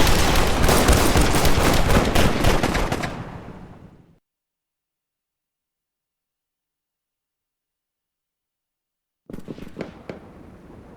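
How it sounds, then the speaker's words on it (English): Rifle gunfire in the Napoleonic-era strategy game Rise of Prussia: a dense, loud crackle of musketry for about four seconds that fades to silence, then sparse single rifle shots return near the end. "It sounds like one rifle shooting at points. Like there, one rifle's going off."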